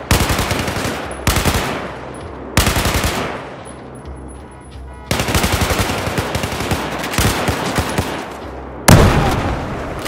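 Loud bursts of automatic machine gun fire in Battlefield 4, several long sustained volleys separated by short pauses, close and dominant with no talk.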